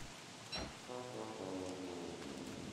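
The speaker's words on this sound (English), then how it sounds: "it's raining heavy now." Heavy rain in the video game Don't Starve Together hisses as a steady wash of noise, with a low droning tone layered in partway through; fairly faint and without speech.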